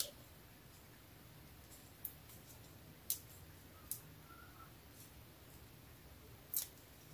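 Scissors cut a piece of paper in two for a sketch card, a few sharp, brief snips spaced apart over a quiet background.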